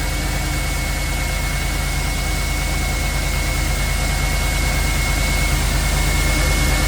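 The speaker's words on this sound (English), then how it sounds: "You can really hear it sucking through the air filter, which I gotta clean out." An LS-swapped Chevrolet Tahoe engine idles steadily with a loud, constant roar and a hissing intake rush drawn through a K&N air filter, with no break or change in level.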